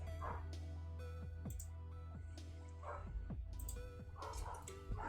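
A dog next door barks in short, slightly distant bursts repeated every second or so over a steady low hum, with a few higher yips mixed in.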